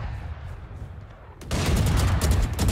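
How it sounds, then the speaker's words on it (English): A Judge shotgun firing full auto in a video game: quiet background for over a second, then a sudden loud stream of rapid, booming shots that continues to the end. "I love how the judge is full auto."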